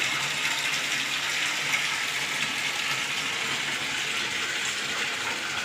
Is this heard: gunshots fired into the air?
no